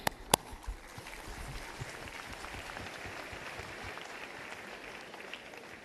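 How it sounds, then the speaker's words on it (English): Distant applause from an audience at the opening ceremony of the 2025 IBA Men's World Boxing Championships in Dubai, a steady soft wash of clapping after a couple of sharp knocks at the start. "So, I think a round of applause"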